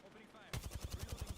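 Rapid automatic gunfire in a video game shooter bursts in after a quiet moment, a steady run of loud, close shots with no talk over it.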